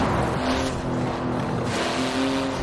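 A 700-horsepower carbon-fibre car with a 3.8-litre twin-turbo flat-six, driven in Forza Horizon 4, holds a steady, loud engine drone throughout without pause.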